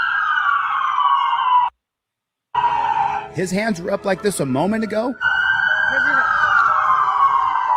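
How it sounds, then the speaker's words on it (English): A loud police car siren wails steadily, stops abruptly for a moment, then resumes, while someone speaks over it in the middle stretch. "Code red, lights, sirens."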